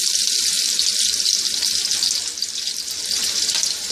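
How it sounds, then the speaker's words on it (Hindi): Sliced onions frying in hot oil in a pan, a loud steady sizzle and crackle running throughout. "ऑयल मैंने गरम करने रख दिया था। अब मैं इसके अंदर प्याज ऐड कर रही हूँ"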